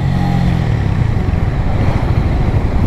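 A Harley-Davidson X440 motorcycle accelerates hard in first gear, its loud, close engine roaring steadily with heavy wind rush across the microphone.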